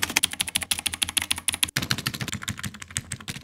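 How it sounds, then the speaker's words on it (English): Rapid, clacky typing on a cheap $5 Dollar Tree GamePro gaming keyboard, close and dry with a steady patter of keystrokes and a brief gap midway. "So the keyboard works. It just doesn't feel the greatest to type on."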